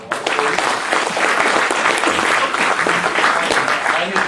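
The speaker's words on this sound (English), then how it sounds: "Okay, round of applause" A Rotary club audience gives a round of applause in a meeting room, a loud, steady wash of many hands clapping together for several seconds, close and dense with a faint voice mixed in.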